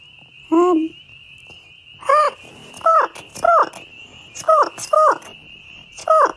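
A person imitates an albatross with a string of squawky vocal calls, about eight short harsh bursts in an irregular rhythm, close and fairly loud, with a steady high tone running underneath.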